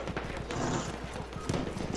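Horse hooves clip-clop in the Battlefield 1 video game, a quick rhythmic patter of close, fairly loud hoofbeats mixed with dense battlefield game noise.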